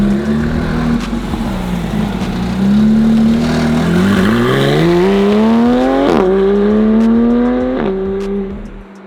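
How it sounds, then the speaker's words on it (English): A Porsche engine revs loud and close as the car pulls away, its pitch climbing through several rising sweeps with brief dips at gear changes before the roar fades at the end. "That Porsche sounds really cool."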